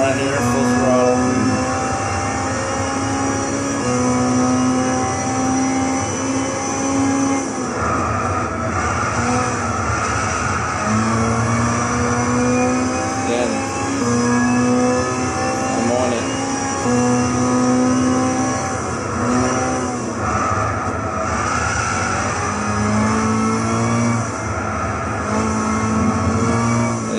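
An Amuse S2000 GT1 Turbo race car at Silverstone in Gran Turismo 6 runs at full throttle, a loud, steady engine drone with sustained harmonic whine that holds with small pitch shifts and no voices.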